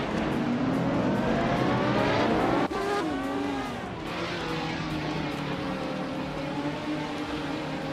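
Race cars roar loudly from the start of a race, several engines layered with rising pitch sweeps as they accelerate, a sharp shift near the middle, then steady high-revving drone as the pack runs close together.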